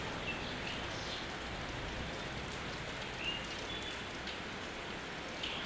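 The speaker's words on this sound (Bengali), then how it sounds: "এই দেখো এখন বৃষ্টি আরম্ভ হয়ে গেছে" Steady rain falls during the monsoon season early in the morning, a soft, even patter that holds across the whole stretch with no voices, and a faint bird call comes through now and then.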